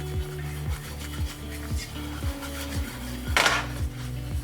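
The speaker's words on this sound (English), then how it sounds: "Just keep whisking." A whisk rapidly scrapes and clinks against a pot while flour roux cooks for mac and cheese, a quick repetitive metallic rhythm with a louder scrape near the end.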